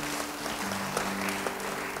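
Applause from a church congregation during an Indonesian sermon, a steady wash of many hands clapping at moderate distance, continuous for the full two seconds with no voices over it.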